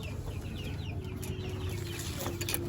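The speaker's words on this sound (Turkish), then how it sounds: "bir abimizin geçici olarak getirmiş olduğu Hint yaklaşık bir buçuk yaşında" A turkey about a year and a half old calls in a coop, a few faint clucking and gobbling sounds against a constant low hum of farmyard background.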